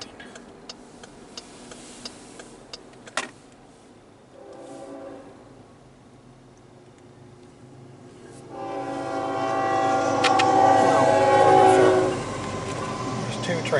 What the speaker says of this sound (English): There's 2 trains coming, one coming from one direction, one coming from the other.